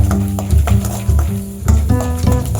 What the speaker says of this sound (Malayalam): അപ്പം അതേ എണ്ണയിൽ നമുക്ക് കടുക്, നമ്മുടെ കടലപ്പരിപ്പ് ഇട്ട് നല്ലപോലെ ഒന്ന് ഫ്രൈ ആവണം